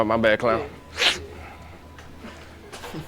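A single short, sharp sneeze among men in a street, briefly rising between stretches of casual talk.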